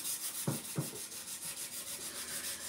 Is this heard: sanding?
yes